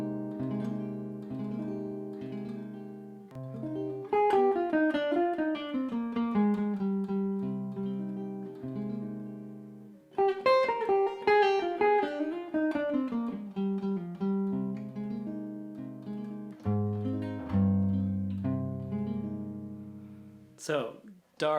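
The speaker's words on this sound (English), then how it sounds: "This is a chord, just a beautiful chord that you can play to suggest the Aeolian sound." Rich sustained chord voicings suggesting the Aeolian mode, played slowly and arpeggiated with ringing decays, a second pass following a short pause; a few faint taps near the end.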